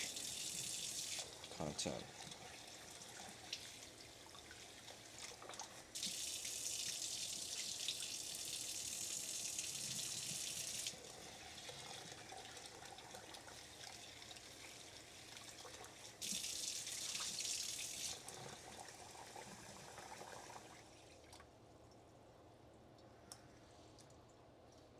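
Water runs steadily from a kitchen tap as long grain rice is rinsed, a continuous hiss and splash that swells louder twice when the flow hits harder, then eases off near the end; a voice speaks briefly.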